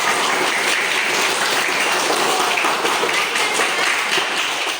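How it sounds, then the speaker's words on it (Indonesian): A catechesis group applauds Stefan, a loud, dense burst of many people clapping together that holds steady throughout, close and full, with no talking. "tepuk tangan untuk Stefan"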